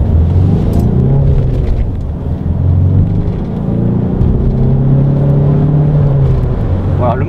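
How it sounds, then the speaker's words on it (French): A Ford Edge 2.0L TDCi diesel engine accelerating uphill on a road, heard as a steady, loud low drone from inside the cabin with rising engine tones and continuous road rumble, with no break. "le moteur se fait entendre"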